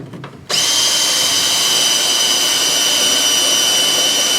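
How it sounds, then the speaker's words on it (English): A dull step drill bit (unibit) bores a hole during a dual exhaust install on a 1968 Chrysler 300, the drill kicking in after a brief pause and then whining loudly and steadily, close up. "Get your dull unibit."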